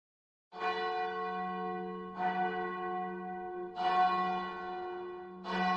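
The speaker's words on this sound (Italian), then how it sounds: "in lontananza sentite il rintocco delle campane di Sant'Andral" The church bells of Sant'Andral toll in four slow, resonant strikes, each ringing on with a long humming decay before the next, sounding clear and steady rather than faint.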